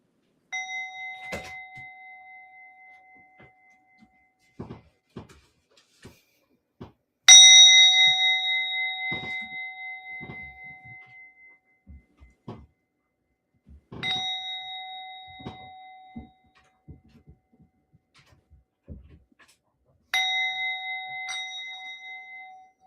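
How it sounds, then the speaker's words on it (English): Meditation bells ring during a breathing meditation, with four clear, resonant strikes spaced several seconds apart, each decaying slowly, along with quieter taps and soft knocks in between. "So during these bells, just take your breaths."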